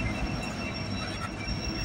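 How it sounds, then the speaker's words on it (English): CN freight train slowing at Brantford station, a steady low rumble of wheels and cars rolling past with faint high squeal tones, continuous and fairly close, with no talking. "So this train here is going to be heading towards the Hagersville subdivision."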